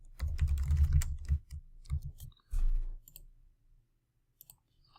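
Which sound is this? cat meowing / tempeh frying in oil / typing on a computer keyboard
typing on a computer keyboard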